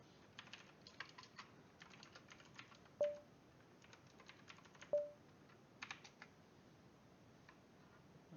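Keys clatter on a computer keyboard in quick irregular bursts, close and quiet, with two sharper single clicks standing out and no voices.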